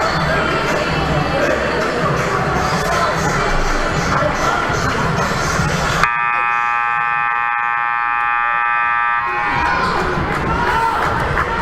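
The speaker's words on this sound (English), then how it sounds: "that buzzer means we are back in action" Long, steady electronic buzzer sounds for about three seconds at a high school varsity boys basketball game, cutting through loud gym crowd noise and cheering that drops away while it blares and returns afterward.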